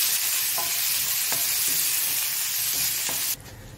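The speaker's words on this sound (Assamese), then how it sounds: "পিঁয়াজটো মানে মই ভাজি আছোঁ" Sliced onion frying in a small amount of oil in a pan, a dense close sizzle with faint stirring clicks, steady throughout before dropping off sharply near the end, no voices.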